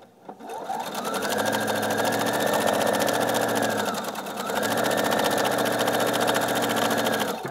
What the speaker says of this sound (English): I'm going to come over to the sewing machine, hold that nice and tight on there, and sew your line.